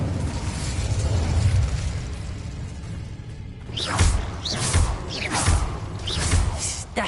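The Incendio fire spell in Hogwarts Legacy goes off as a run of loud whooshing fiery bursts, four or five roaring blasts in quick succession after a stretch of quieter game ambience.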